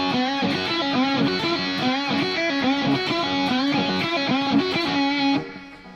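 A distorted electric guitar plays a choppy, rhythmic opening lick, loud and up close with repeated bent notes, cutting off abruptly near the end.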